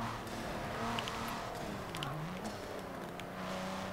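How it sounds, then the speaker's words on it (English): Upgraded turbo V6 car in Forza Motorsport 7, engine droning faintly with gear changes and rising revs, a turbo whine above it, steady and low in level. "it doesn't sound half bad either, considering it's a V6."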